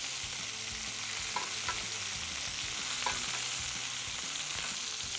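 Beef tenderloin roast sizzles steadily in hot butter while being basted, a constant dense frying hiss with faint spoon clinks and scrapes, no voices.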